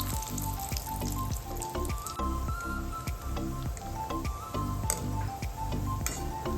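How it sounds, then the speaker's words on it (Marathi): Coconut frying in hot oil for farali chivda, a steady dense sizzle with occasional stirring and scraping in the pan, close and continuous throughout. "आपण खोबरं तळून घेणार आहोत।"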